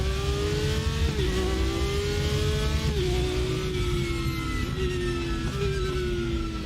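A Porsche engine in the RaceRoom Racing Experience sim revs high and loud, climbing steadily with three quick gear shifts that drop the pitch before it rises again, with no talk.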